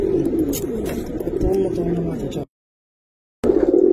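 Giribaz pigeons in a loft make low, continuous cooing close by, with a brief silent gap partway through before the cooing resumes.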